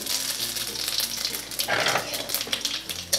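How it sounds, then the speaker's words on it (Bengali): Dried red chillies and panch phoron spices crackle in hot oil for a Bengali spinach curry, a steady loud sizzle with a brief louder burst midway, under low background music. "ফোড়নগুলো নেড়ে চেড়ে একটু ভেজে নিয়ে দিয়ে দেব শাক"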